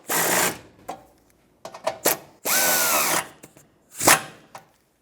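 Power drill tightening bolts on the rear bumper end of a 1996-2002 Toyota 4Runner, in several short whirring bursts with brief pauses, one burst revving down as the bolt seats.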